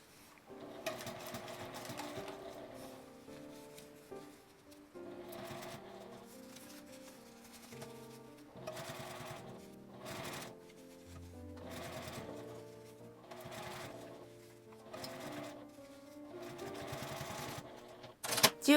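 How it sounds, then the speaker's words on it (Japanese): Sewing machine stitching around the narrow opening of a fabric glasses case in short bursts, each run of rapid mechanical stitching separated by pauses as the fabric is turned, quiet and close with no talking. "開いて 3センチ分ずつぐらい回しながら縫っていきます。"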